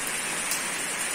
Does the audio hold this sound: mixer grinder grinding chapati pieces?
no